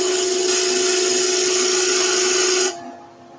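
A wood lathe roughs a spinning blank down toward a cylinder, a loud steady whine with a sharp tonal hum and bright scraping hiss that cuts off abruptly, leaving a softer motor drone.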